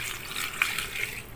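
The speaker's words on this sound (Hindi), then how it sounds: "1 गिलास में पानी डाल रही हूँ" Water poured into a glass while a skin-whitening lemon drink is prepared, a steady faint trickle lasting the whole moment with no one talking.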